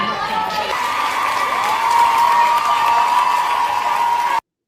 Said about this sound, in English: So they're actually clapping for the woman that called Erika Kirk out